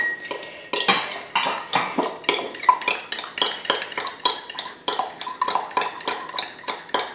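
A spoon stirs a lemon and olive oil mixture in a small dish, giving a quick, regular series of light metallic clinks and scrapes, close and clear with no talk.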